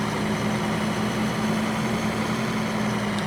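A 170-horsepower farm tractor runs at a steady idle up close, a loud, even low drone with a constant hum and no voices.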